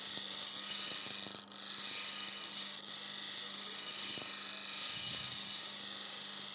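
Bench grinding wheel sharpening a wood carving gouge, a continuous high grinding hiss over a steady motor hum, with a few brief dips as the tool shifts across the wheel.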